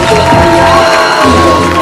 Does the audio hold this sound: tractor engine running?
no